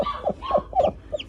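Newly hatched Aseel chicks give a few short, high peeping cheeps in quick succession, close and fairly clear, with no talking.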